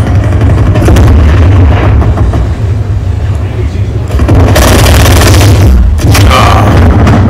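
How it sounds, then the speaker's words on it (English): A flashbang grenade goes off in a first-person shooter video game during a live stream: loud, dense booming bursts over continuous low rumble, with a sharp broadband blast near the middle and another shortly after. "Flashbang."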